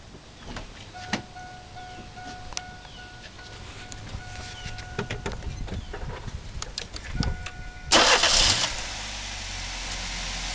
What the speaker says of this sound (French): Je vais aller démarrer le véhicule.